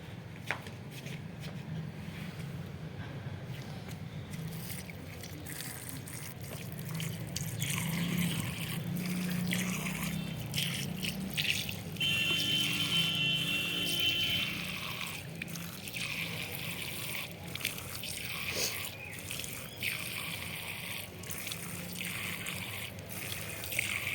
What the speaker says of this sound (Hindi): मैं एक हाथ से ही डाल रही हूँ, थोड़ा थोड़ा नल खोल के